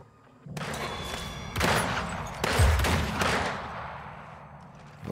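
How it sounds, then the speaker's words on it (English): Gunfire from the video game Weird West: a sustained volley of loud shots bursting in at about half a second, with heavier booming blasts near two and three seconds, then tailing off into a fading rumble. "Who are you shooting at? Who might you be firing at"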